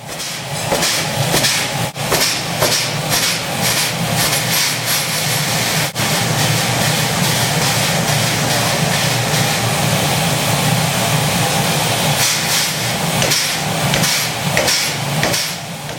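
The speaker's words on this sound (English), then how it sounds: "The orange hammer had been built in Berlin in 1892, and it was being used to create a metal pin" Loud, continuous mechanical din with hissing and heavy rhythmic thumping of an orange 1892 Berlin-built power hammer forging a metal pin from melted railway rail, two sharp strikes standing out early on.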